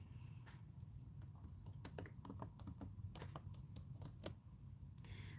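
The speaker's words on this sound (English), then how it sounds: "So I'll type it again." Fingers type on a computer keyboard in quick, irregular bursts of clicks and key taps, close and fairly quiet, with no one speaking.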